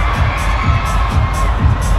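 A dense crowd screams and cheers loudly at an awards show in Thailand, sustained shrieking in repeated swells with no break.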